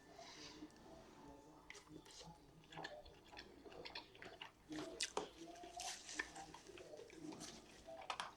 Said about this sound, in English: Let's eat the skins of the salmon.